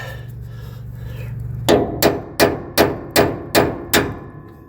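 A low hum, then seven sharp metallic hammer strikes on a seized nut, evenly spaced and loud, each ringing briefly before the next.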